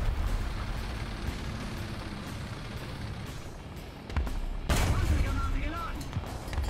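A tank shell glances off armour in War Thunder with one sharp, loud crack about two-thirds through, set over a steady rumble of engine and battlefield noise.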